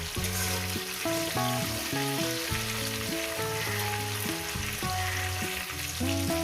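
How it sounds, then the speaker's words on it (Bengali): Cauliflower florets fry in a pan for a potato, cauliflower and chicken curry, a steady close sizzle running throughout beneath louder background music with no talking. "বন্ধুরা ফুলকপি আমি কীভাবে ভেজে নিচ্ছি দেখে নিচ্ছেন"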